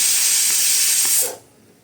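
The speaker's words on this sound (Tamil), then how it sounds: "அடுப்பில் வச்சு குக்கரை மூடி ஒரு 3 விசில் போட்டு எடுத்துருங்க" A pressure cooker whistle releasing steam while pumpkin cooks for sambar, a loud, close, steady hiss that cuts off abruptly after about a second and a half.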